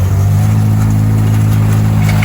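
Tractor engine running steadily while pulling a baler, a loud, constant low throbbing drone close by with no change in pitch.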